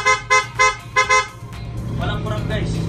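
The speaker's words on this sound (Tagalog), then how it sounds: "Sa dual horn. Try natin." A dual-tone car horn honks four short times in a steady rhythm, loud and close, then gives way to engine rumble and road noise.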